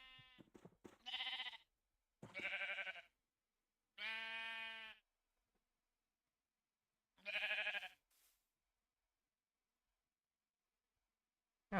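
Minecraft sheep give four clear, nasal bleats spaced a second or two apart, fairly close, against silence in between.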